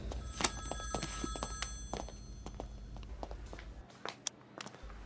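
A telephone rings over and over in bursts, with a steady hum underneath and a few soft knocks and footsteps nearby.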